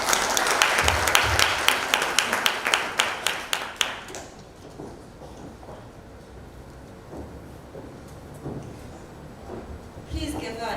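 Clapping rings out at a G20 symposium in Durban, a run of sharp, regularly spaced claps for about four seconds that gives way to quieter room noise and murmuring voices, with a short burst of clapping near the end.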